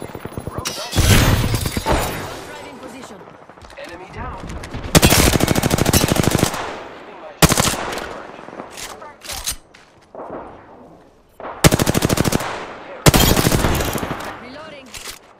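Video-game gunfire from enemies in a squad shooter, coming as loud, dense automatic bursts separated by brief quieter gaps and sharp single shots across the whole stretch.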